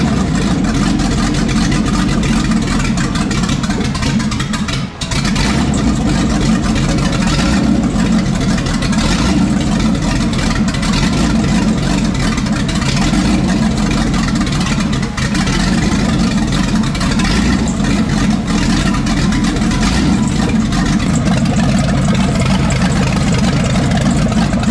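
A Chevy 350 V8 swapped into a vintage Toyota Land Cruiser FJ60 runs at a loud, steady idle close by. The rumble is continuous for the whole stretch, with a brief dip near the start.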